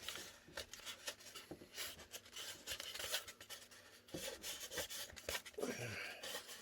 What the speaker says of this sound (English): You can do the old rub it back and forth technique to get the bead off as well.